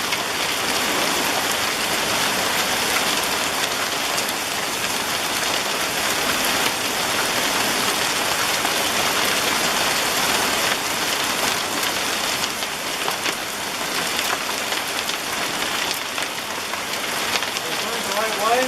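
Hail pelts a flooding yard in a dense, continuous patter, loud and close, with an unbroken hiss of impacts from start to finish.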